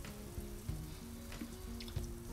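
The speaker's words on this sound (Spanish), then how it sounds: "Ponemos aceite, unas gotas, dos dientes de ajo sin pelar. y echamos el bacalao." Cod frying in a few drops of oil alongside two unpeeled garlic cloves makes a soft, even sizzle, quiet and close, with faint clinks and a low background hum.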